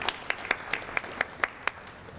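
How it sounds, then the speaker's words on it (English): Several people at a school steering committee meeting clap, sparse distinct claps about four per second, fairly close and fading after a couple of seconds. "So give yourselves a round of applause for making that problem occur."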